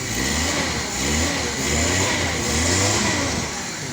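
A car engine with its air cleaner removed runs steadily, a loud, close, rough droning rumble with a slight swell in pitch, no talking.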